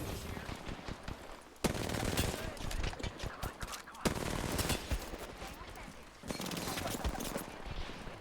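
Enemy gunfire in a shooter video game, with rapid automatic bursts and volleys of shots rattling almost continuously in dense waves, moderately loud, with a voice talking over parts of it.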